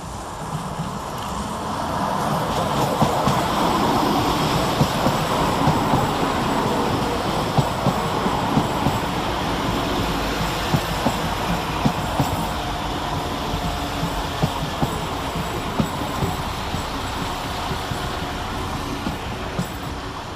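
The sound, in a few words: West Midlands Railway class 172 trains crawling through station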